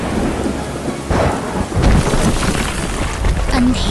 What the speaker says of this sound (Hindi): अंधेरी और तूफानी रात में प्रकृति ने अपना रौद्र रूप दिखाया है